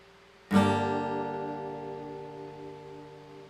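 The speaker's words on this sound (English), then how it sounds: "So this is the sound of a pick." A single bright guitar strum played with a pick rings out with a sharp attack, its chord sustaining and slowly fading in a quiet room.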